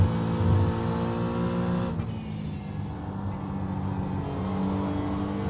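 LMP prototype race cars battle on the Watkins Glen track in iRacing, their engines a continuous, fairly loud droning whine with harmonic tones, dipping briefly near the middle before climbing steadily again.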